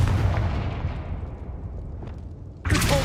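A Confringo blasting spell explodes in Hogwarts Legacy, giving a loud, sustained rumbling boom that slowly decays, then a second sharp burst near the end.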